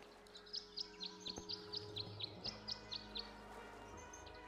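Chirping birds in the Tangle Tower video game, a steady run of about a dozen short, bright tweets in a tuneful pattern over a soft ambient music bed.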